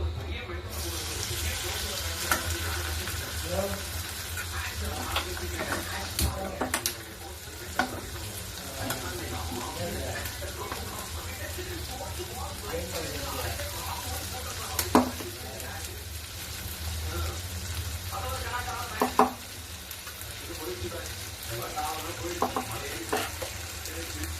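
Tempering being mixed into millet pongal in a kitchen, with steady scraping and stirring over a low background hum and occasional sharp clinks of the spoon against the pot.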